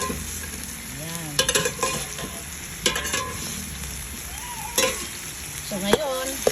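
Carrots and potatoes sizzle and fry in a pan, stirred with sharp metallic scrapes and clinks in irregular bursts, while a person talks intermittently in the background.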